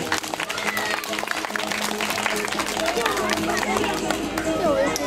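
An outdoor audience at a village dog show in Varsány claps for a performing dog, steady applause mixed with crowd chatter and a talking voice throughout.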